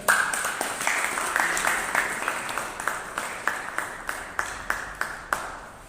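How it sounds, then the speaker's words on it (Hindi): Applause at an organizational gathering of a veterans' association, a crowd clapping in a loose, fairly even rhythm with distinct sharp claps standing out, continuing for several seconds at moderate loudness. "आप सब ताली बजाएं, जरूर हौसला अफजाई करें और उनको धन्यवाद अदा करें।"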